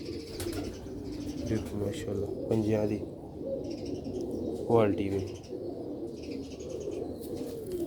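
Sialkoti pigeons cooing in a rooftop loft, soft low coos and a few short chirps, heard close under someone speaking steadily throughout.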